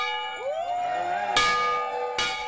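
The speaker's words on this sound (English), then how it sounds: "The ceremonial ringing of the restored Shiloh Baptist Church bell" The restored bell of Shiloh Baptist Church in McLean, Virginia, rings out ceremonially, with two clear strikes whose bright metallic tones linger and hum between them, fairly distant and without talk.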